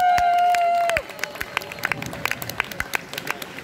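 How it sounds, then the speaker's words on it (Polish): Audience applause at a concert, as a held musical note fades and scattered, fairly loud claps ring out in an uneven rhythm through the rest. "Wielkie brawa."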